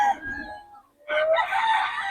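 A 4'5 early bird lemon sweater bloodline rooster, a young fighting cock, crows loudly and close by in the second half, after an earlier stretch of softer clucking and background sound.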